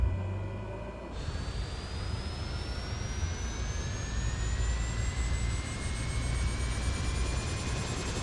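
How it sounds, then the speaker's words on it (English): Jet engine starting up in a flight simulator, a broad roar that builds after a second with whining tones rising slowly and steadily, loud and continuous with no talking. "Alright, that sounds like a good engine start to me."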